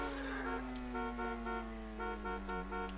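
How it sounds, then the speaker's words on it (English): Steady car horn honking during a GTA stunt race, a sustained tonal blare with a few pulsing toots layered over continuous engine drone, loud and close throughout. "And Esco with a little bit of a honk there"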